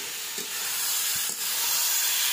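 Cumin seeds, green chillies and a pinch of turmeric tempering in hot oil make a steady, close hissing sizzle that runs unbroken throughout, with no voices.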